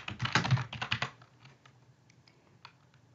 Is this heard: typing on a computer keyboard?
yes